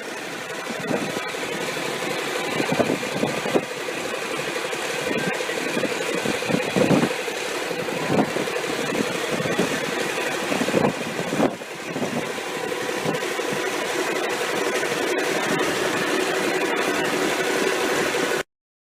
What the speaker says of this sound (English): This is the first test run after a rebuild of a 600 horsepower Cummins KTA19 diesel engine.